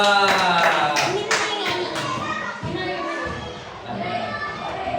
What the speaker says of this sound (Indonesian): Oke, tepuk tangan semua untuk kelompok 2.